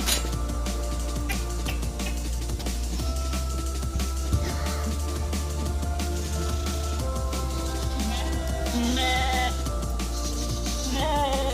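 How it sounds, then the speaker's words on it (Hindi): A flock of Mundri sheep and goats bleat repeatedly, a dense mix of overlapping near and distant calls over a steady hum in an outdoor livestock setting at a pond area, continuous throughout. "ये मुंदरी भेड़े हैं और बकरियां"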